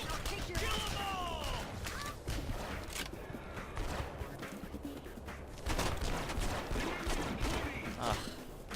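Sharp gunshots ring out in Red Faction Guerrilla, a few distinct cracks amid constant chaotic game noise and scattered clatter, fairly quiet overall, with a voice talking over parts of it.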